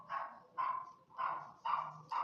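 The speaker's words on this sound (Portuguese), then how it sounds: "Aí o cachorro começou a latir, Jesus." A dog barks repeatedly nearby in a steady rhythm of five loud, evenly spaced barks, with no other sounds competing.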